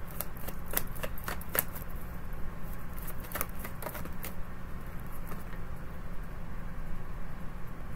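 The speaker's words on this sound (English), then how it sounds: "Well, the deck's awake, so one more good shuffle." A tarot card deck being shuffled by hand, producing a soft continuous riffling patter with several crisp card snaps in the first half over a steady background hiss.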